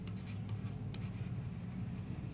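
Pen or pencil writing on paper during a class 6 maths fractions lesson, a soft continuous scratchy stroke sound with one brief tap, fairly quiet and close.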